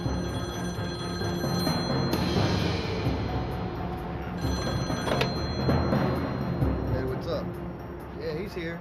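A telephone bell rings in repeated bursts during an FBI stakeout, loud and close over a steady background hum, with a voice speaking over part of it.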